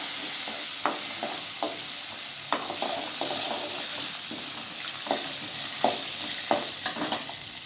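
Dried red chillies and boiled peanuts frying in a pan, a soft continuous sizzle broken by repeated scraping stirs and light knocks of a spoon against the pan, close and unaccompanied by speech.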